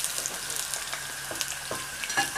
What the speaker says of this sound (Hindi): तेल गरम हो चुका है, अब हम इसमें प्याज ऐड करेंगे।